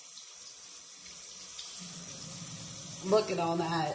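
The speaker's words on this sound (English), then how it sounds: "I'm going to wash my eyeshadow brush." Tap water runs into a sink while an eyeshadow brush is rinsed, a steady hiss swelling louder near the end as the flow strikes the basin, with a person speaking briefly over it.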